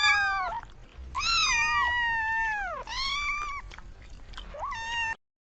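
A kitten lets out several long, loud, drawn-out meows close up, one after another with brief gaps, ending with a shorter cry.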